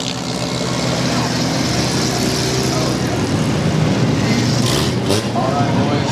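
Ford Ranger race trucks on the base lap before a race, a dense continuous roar of engines, loud and sustained throughout with an announcer talking over it.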